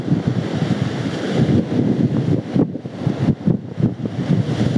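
Sea waves surging and breaking continuously along a shore, a steady broadband wash with rhythmic swells, mixed with wind rumble on the microphone.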